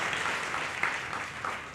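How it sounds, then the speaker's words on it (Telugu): A church congregation at a Baptist Sunday service claps together in a brief, dense burst of steady applause, heard at moderate volume with no voices over it. "గట్టి కొట్టండి చప్పట్లు."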